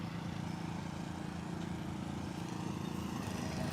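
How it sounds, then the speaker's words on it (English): A lawnmower runs outside, a steady continuous engine drone that holds at an even level throughout with no talking. "Now this guy's gonna come out with his lawnmower sounds"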